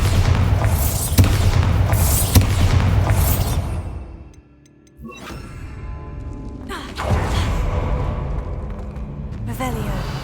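Bombarda spell explosions in the Hogwarts Legacy video game on hard mode: heavy, loud booms and thuds under a dense, busy game soundscape, with a brief near-silent gap midway before the blasts and rumbling resume.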